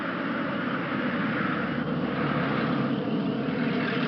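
Military aircraft passing low overhead above farmland in New York's Hudson and Wallkill river valley, a loud, continuous broadband engine roar that stays strong and steady throughout, no speech.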